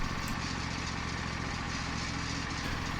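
Steady engine drone of a sawmill running while milling a black cherry hardwood log, a constant close rumble with no pauses or talk over it.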